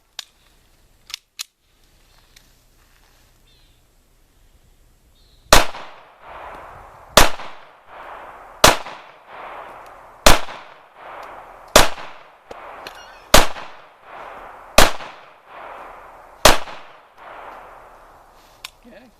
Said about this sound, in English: I'm going to shoot some rounds